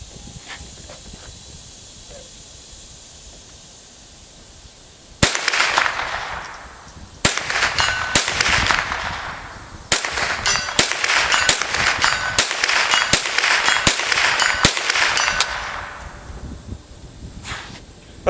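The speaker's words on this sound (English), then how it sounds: "Shooting with a 22." A .22 rifle fired at targets 100 yards away outdoors: about a dozen sharp, loud cracks spaced irregularly, each followed by a brief ringing tail, after several seconds of quiet background.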